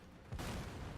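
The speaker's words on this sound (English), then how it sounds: "Glad she got that flashbang out of her system." A flashbang grenade goes off in the Dead by Daylight video game, a sudden loud burst that cuts in after a quiet moment and rings on as a dense crackling wash.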